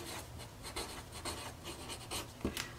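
Marker or pen scratching measurements onto fabric for a flat top zipper bag, short repeated strokes in quick rhythm, close and fairly quiet with no talking.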